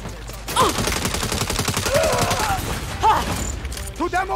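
Rapid gunfire bursts from the video game Saints Row in a co-op mission, dense repeated shots filling the clip at close range, with a player talking excitedly over the shooting.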